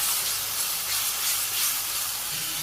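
Spices with salt, sugar, cumin powder, garam masala, bay leaves and chili powder sizzle and steam in a pan after a splash of water, a steady broadband hiss throughout with no talk, for a village-style chicken biryani.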